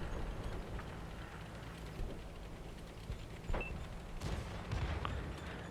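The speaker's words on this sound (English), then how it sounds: "artillery, as soon as it gets a chance to shoot at us, does exactly that" Artillery shells fire at a tank in World of Tanks, with several dull booms and sharp cracks scattered over a steady rumble of battle noise, louder bursts near the middle and end.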